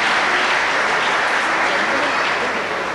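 A live stage show audience in Dubai applauds in a dense, loud, continuous burst. The clapping holds steady for the whole moment and does not fade out.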